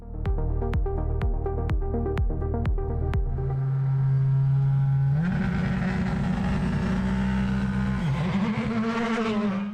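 A Ford Fiesta R5 rally car at a stage start fires a rapid string of sharp anti-lag bangs, then sits on a steady high idle before launching hard, its engine screaming loud and close as it pulls away.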